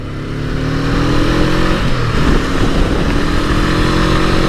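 A Honda NX500 adventure motorcycle engine pulls hard on the road, rising in pitch through short-shifted gears with the drone of riding at speed, loud and continuous from the rider's position.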